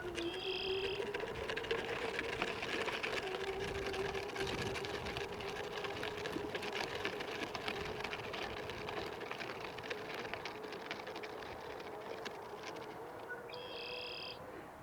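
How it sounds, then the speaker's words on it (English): A Segway Navimow X430 robotic lawn mower drives across a driveway toward the next section of lawn, giving a steady, faint motor whir and hum. A couple of brief electronic beeps are heard near the start and the end. "navigate our Navimow mower to the other side of the driveway here"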